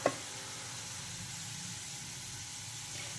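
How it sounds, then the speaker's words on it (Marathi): Peanut-filled karanji pastries fry in hot oil with a steady, broad sizzle that holds evenly throughout, preceded by a brief soft knock at the very start. "तर आपल्याला फक्त तीन तीनच ह्या तळून घ्यायच्या आहेत म्हणजे ह्या छान तळल्या जातीला"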